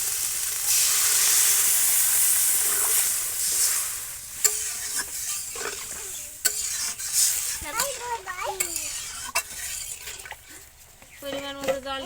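Water poured into a hot pan of frying cauliflower for an egg curry, hissing in a loud burst of steam that fades, followed by stirring and utensil scrapes against the pan.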